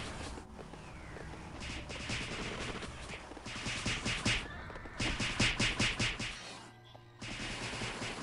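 Rapid gunfire from shooting in a video game, bursts of repeated shots with a clattering rhythm, fairly loud and continuous over game background noise, with a brief lull near the end before resuming.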